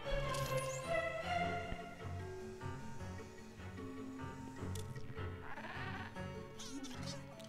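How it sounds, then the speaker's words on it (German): A ghostly creature in the video game Luigi's Mansion 3 bleats like a goat, with several wavering cries over game music and effects, fairly close and clear. "Er mäht schon wie eine Ziege."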